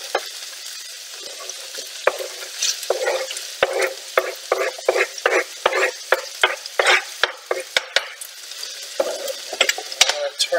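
Sliced mushrooms fry in a pan over a lowered gas hob, a steady sizzle broken by frequent sharp scraping and tapping stirs, fairly close and loud with no voice.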